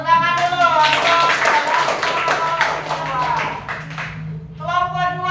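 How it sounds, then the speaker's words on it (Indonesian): A classroom claps for a student group during a teaching session. Scattered applause runs for several seconds under a voice talking over it, then the talking carries on. "tepuk tangan dulu untuk"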